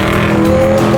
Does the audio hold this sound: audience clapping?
no